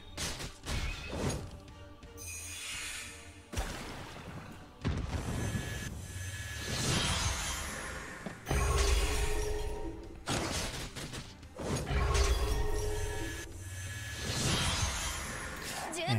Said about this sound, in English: And Luna is going to wind spiral